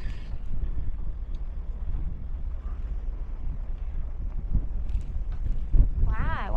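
Strong wind buffets the microphone aboard a river barge heading downstream against a headwind, a steady low rumble of gusts and water throughout, with a brief voice near the end.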